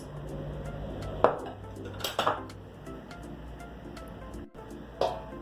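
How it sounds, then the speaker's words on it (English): A utensil scrapes melted butter out of a bowl for brownies, with several sharp clinks and scrapes against the dish sounding close and irregular over a steady kitchen background. "and in goes my melted butter. Get all of that butter there out."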